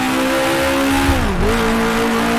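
A 1966 Eagle F1 racing car engine in the Grand Prix Legends sim screams steadily at high revs, briefly dipping and climbing again as it over-revs, with faint tyre noise beneath.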